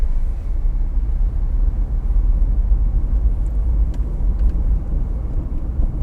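A car crawls slowly in second gear over a speed breaker on a busy market road, giving a steady, close engine rumble with road noise and no talk.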